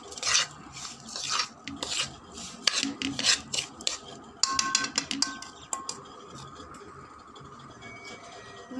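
Semolina with sugar and grated coconut dry-roasting in a pan, a spatula scraping and rubbing in repeated strokes, fairly close and clear, with no voices.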